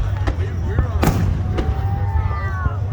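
Fourth of July fireworks launched from the harbor at Coronado, San Diego, pop in scattered sharp bursts at a distance beneath a low steady rumble, while excited spectators talk and exclaim over them.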